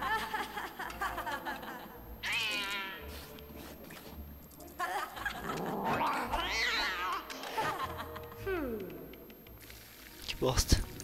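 A cat meows in the LEGO Harry Potter video game, giving a couple of short rising and falling cries over game sounds, while a person talks along with the play.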